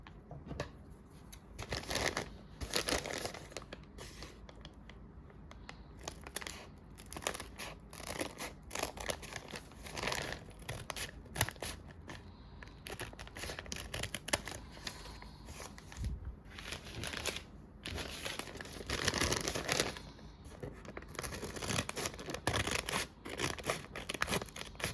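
Scissors trim paper bags for a junk journal, with repeated close snips and crinkling rustles of the bag material. Cuts come in irregular bursts over steady handling noise, and nobody speaks.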